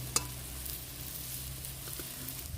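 Dhoka cakes of lentils and elephant foot yam shallow-frying in oil in a pan, a faint steady sizzle with a few soft taps and clicks, heard close and without talk.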